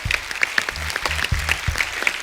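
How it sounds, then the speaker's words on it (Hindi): A studio audience at a television comedy show applauds a film team, close energetic clapping heard briefly alongside a thumping music beat. "सो एक बार जोरदार तालियां हो जाए फिल्म थप्पड़ की पूरी टीम के लिए।"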